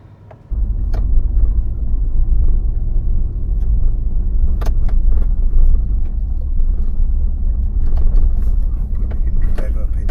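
A truck driving slowly up a narrow road gives a low, steady engine rumble that begins abruptly and stays close and loud, with occasional knocks and rattles over the rough ground.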